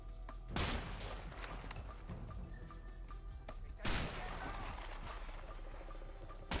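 Gunfire in the video game A Way Out cracks out in sharp bursts, with loud shots near the start and again near four seconds over dense continuous battle noise.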